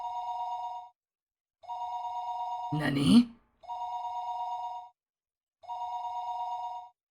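A classic telephone bell rings in repeated bursts of about a second each, separated by short pauses, in the horror visual novel Higurashi: When They Cry. A brief spoken exclamation cuts in between two rings.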